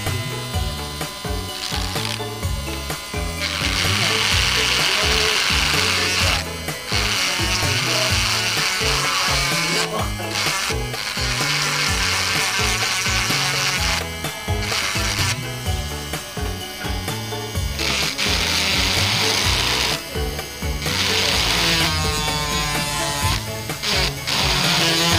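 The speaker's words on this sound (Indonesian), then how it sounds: "untuk lebih cepatnya bisa dibersihkan pakai mini bor ya" A mini drill grinds out a stuck screw on a phone, a loud close whine and grinding that pulses in repeated bursts and short pauses over about twenty-five seconds.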